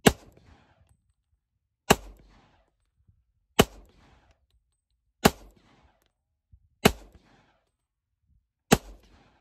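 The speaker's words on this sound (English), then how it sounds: "even just shooting 40 Smith & Wesson out of this thing" Six sharp, loud pistol shots from a Rock Island Armory 10mm 1911 firing .40 S&W rounds, spaced evenly about every 1.7 seconds, each followed by a short ringing decay, with no talking.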